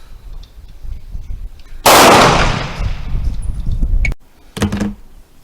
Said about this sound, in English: I'm going to shoot some more with this Zastava pistol.